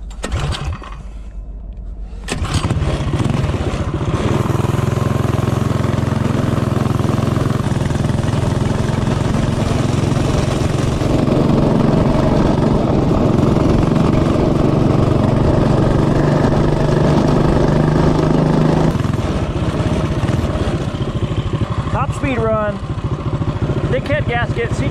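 A minibike engine at full throttle during a top speed run, a loud, steady, buzzing drone that holds for about twenty seconds after a brief start, then drops off at the end.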